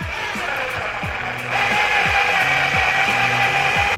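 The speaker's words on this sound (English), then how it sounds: "I'm not drilling it all the way because I just wanna make a little hole for the screw" A drill bores a small pilot hole for a screw while a floating shelf is being installed, giving a steady close whine with repeated ratcheting clicks, rising slightly in loudness midway.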